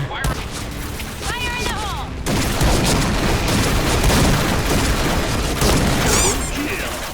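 Rapid gunfire in the shooting game Point Blank, dense bursts and booms that grow into near-continuous firing after a quieter opening, with a voice talking over the shots.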